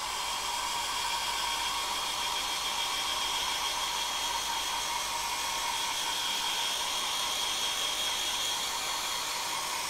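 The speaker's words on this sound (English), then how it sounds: "What I'm going to do is give this a quick blast with the hairdryer." A hairdryer blows steadily on a painted Warhammer miniature, giving a constant, loud, hissing whoosh with a whining motor tone that holds unchanged throughout.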